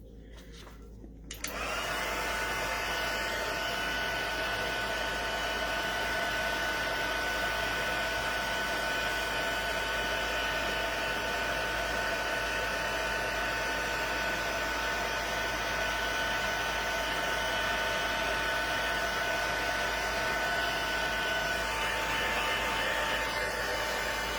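A crafting heat tool melting embossing powder switches on after a brief pause and then roars steadily like a hair dryer, a loud continuous whirring blow with a thin whine that holds unchanged throughout.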